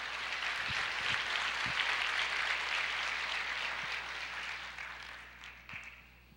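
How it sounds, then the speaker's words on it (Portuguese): Congregation applauding during a church sermon, a dense steady wash of clapping that fades gradually toward the end, with no voices over it. "Você pode aplaudir o Senhor?"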